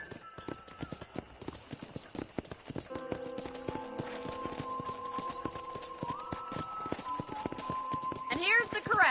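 Horse hooves clip-clop at a steady walking rhythm in the Red Dead Redemption video game, close and clear, with sustained musical tones rising beneath them.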